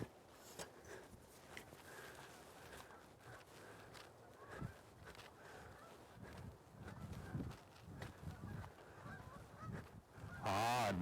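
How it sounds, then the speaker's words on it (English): Geese honk by the Rideau River in fall, scattered calls in irregular bursts at a moderate distance that grow busier and louder toward the end, with faint outdoor rustling underneath. "Ah, another sound of fall, the geese."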